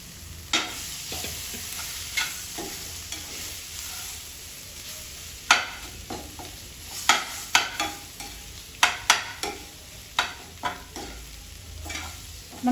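Boiled potato masala frying in a pan for a masala dosa, a soft continuous sizzle punctuated by repeated sharp scraping and clacking strokes as it is stirred, close and without talk.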